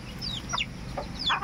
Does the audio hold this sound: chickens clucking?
yes